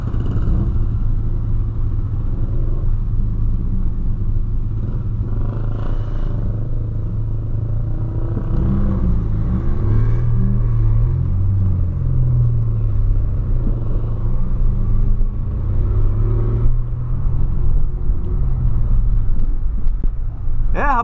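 A white Volkswagen Polo TSI engine runs close by with a steady, loud low rumble, rising and falling in pitch as it revs through the middle of the clip.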